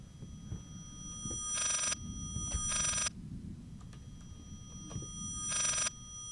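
An old telephone rings in Layers of Fear, three bright bursts spaced out over a low droning horror ambience, with a steady high tone running throughout.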